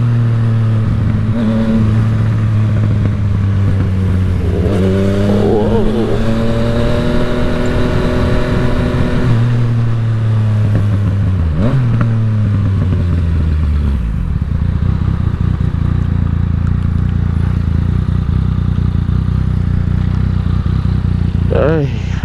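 A Yamaha FZ-09 motorcycle rides through Mulholland Canyon, its engine revving up in rising sweeps with quick-shifter gear changes, then dropping back to a low rumble, loud and close.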